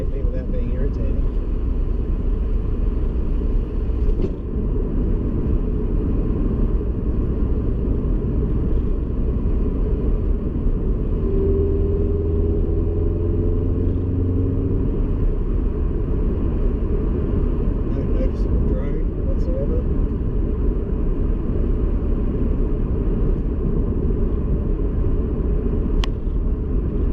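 Toyota 86 GTS engine fitted with XFORCE unequal-length headers, heard from inside the cabin while driving as a steady low droning rumble, constant and fairly loud throughout with no clear talk.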